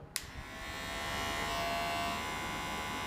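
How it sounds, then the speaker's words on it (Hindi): A click, then a Nova NHT 1083 electric hair trimmer hums steadily at close range, a smooth, even buzz that holds for several seconds. "अब नोवा का ऑन करता हूं"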